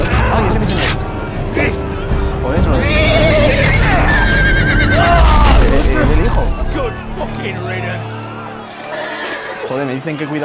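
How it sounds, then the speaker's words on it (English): Horse neighing and whinnying in the Telltale Game of Thrones video game, loud and repeated, with hoof clatter and a busy, tense mix of game sounds; someone shouts excitedly over it. "¡Me pisa el caballo!"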